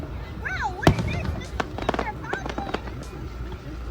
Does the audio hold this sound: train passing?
no